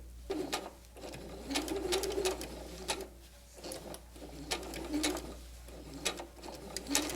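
A sewing machine stitching with metallic thread, its close, steady mechanical whirring and clatter running in short bursts that start and stop, with no voices.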